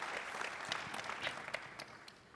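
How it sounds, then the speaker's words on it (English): Brief, fairly faint audience applause at a sports analytics conference panel, scattered claps forming a light continuous patter for a couple of seconds. "We can clap, it's all right."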